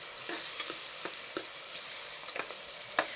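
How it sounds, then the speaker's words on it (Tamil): Onions and green chilies sautéing in a pan for vegetable pulao, a steady soft sizzle with a spoon scraping and clicking against the pan every half second or so, close and alone. "பச்சை மிளகாய் போட்டுக்கலாம். நல்லா கிண்டி வதங்கட்டும்."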